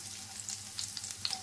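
Chopped garlic with nigella seeds and green chillies frying in oil for a Bengali snake gourd bharta, a faint steady sizzle with light crackles and no voices.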